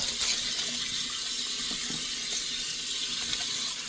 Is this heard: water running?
yes